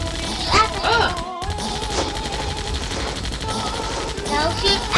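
Gunfire aimed at the player in Zombie Panic in Wonderland, dense overlapping bursts of shots that keep going the whole time, mixed with game sound effects and short cries.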